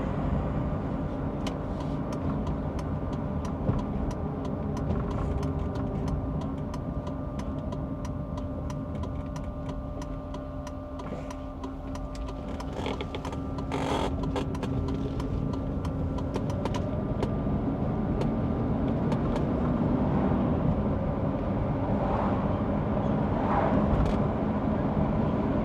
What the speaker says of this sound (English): At low idle speed, I think you hear the fuel pump in the back. It's kind of a humming up and down dun, dun, dun, dun, dun, dun, sound.